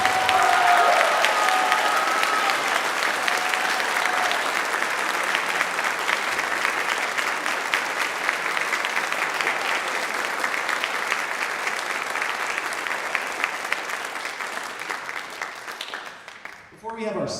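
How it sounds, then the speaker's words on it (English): Full, sustained applause from a concert audience for high school band students earning band letters, heavy clapping with some cheering that holds for many seconds before tapering off near the end. "Would you please give them a big round of applause?"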